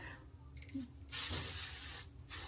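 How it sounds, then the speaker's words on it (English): Hairspray sprayed straight onto a face during a makeup routine, two long close hissing bursts of aerosol separated by a brief pause, with small handling rustles before. "just straight hairspray on my face"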